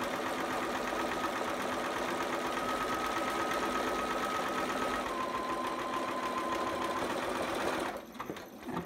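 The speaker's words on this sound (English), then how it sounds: "And then we're gonna just zigzag all the way around." A sewing machine zigzag-stitches around the edge of a bell-sleeve romper, running as a steady, fast, close whir for several seconds before slowing and stopping near the end.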